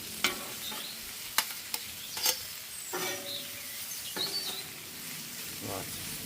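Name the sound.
steak and onions frying for a Philly cheesesteak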